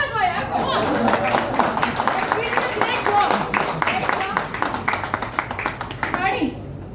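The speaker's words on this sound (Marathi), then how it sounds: "त्यामुळे प्लीज आमच्यासाठी टाळ्या वाजवा यार." An audience claps at a Marathi movie trailer and music launch in Mumbai, a dense burst of many hands that swells loud, holds steady, then fades out near the end, with scattered chatter mixed in.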